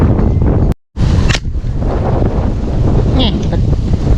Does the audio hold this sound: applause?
no